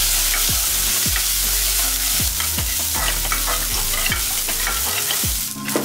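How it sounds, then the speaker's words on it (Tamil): Peeled small onions sautéing in a hot pan for a Tamil sprouted chickpea curry, with a constant loud sizzle and regular scraping stirs of a spoon against the pan. "சின்ன வெங்காயத்தை நம்ம உரிச்சி எடுத்துக்கங்க எடுத்துட்டு இதையும் போட்டு வதக்கிக்கலாம்"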